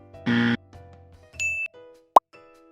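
A Xiaomi phone set down on its branded wireless charging base gives short electronic chime tones, a soft tone and a tonal blip followed by one bright, sharp ding, all close and clear in a quiet room.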